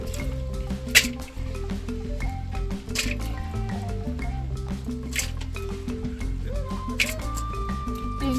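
Omena fish washed in water by hand, with soft squishing and dripping sounds and occasional clinks over a steady low background hum.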